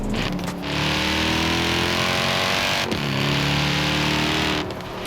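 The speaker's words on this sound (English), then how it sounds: "Mercedes makes some of the greatest sounding V8 engines ever made, and in Forza Horizon 4" A Mercedes V8 in Forza Horizon 4 revs hard and holds a loud, steady engine roar up close, with a brief dip mid-way before the tone climbs again, no voices over it.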